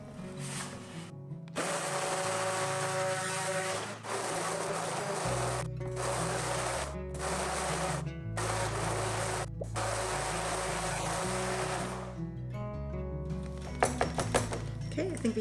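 A stick blender whirs through cucumber soap batter with fragrance oil added, giving a close, steady motor whine in several bursts separated by brief pauses.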